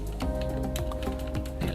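Steady, close clicking of keys as text is typed on a computer keyboard into an Excel spreadsheet, a rapid, even run of light taps with no talking.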